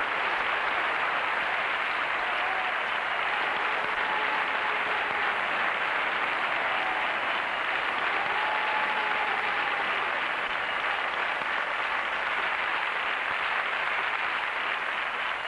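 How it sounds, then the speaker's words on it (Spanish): Broadcast applause from a studio audience at a 1994 Spanish television tribute to Lola Flores, a steady, continuous wash of crowd clapping at constant loudness, with faint tonal traces of voices or music underneath. "estos son los primeros aplausos de una noche que supongo que será una noche llena de aplausos para Lola Flores"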